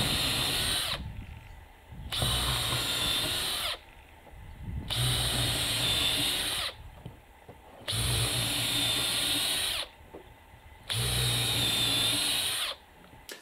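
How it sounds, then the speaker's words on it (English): A top-of-the-line Makita 18-volt drill drives a long bit into material in four loud sustained bursts, each a few seconds long, separated by short pauses. "here's the Makita top of the line 18 volt"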